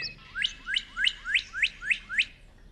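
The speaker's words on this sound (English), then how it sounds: "This northern cardinal song is a common early morning sound across much of the U.S." A northern cardinal sings a clear series of seven evenly spaced, down-slurred whistled notes, bright and fairly close, in an otherwise quiet early-morning setting.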